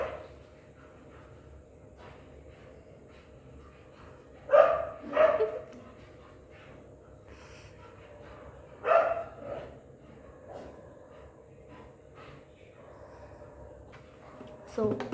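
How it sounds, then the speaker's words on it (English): Dogs bark outdoors at a distance, a few short clusters of barks rising over a steady background hum, quiet between bursts. "these dogs are barking."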